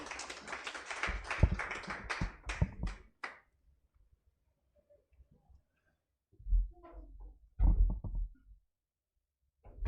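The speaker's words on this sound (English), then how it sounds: "Let's give him a round of applause." A conference audience gives a keynote speaker a brief round of applause, a few seconds of scattered, fairly close hand claps that fade out, followed by quiet and some light knocks and shuffling.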